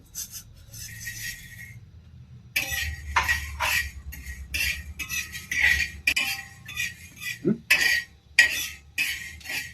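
Peppercorns dry-roasting in a pan with fenugreek seeds for homemade rasam powder: a quiet opening, then repeated close scraping and clinking of a spoon against the metal pan in uneven strokes, with no talking.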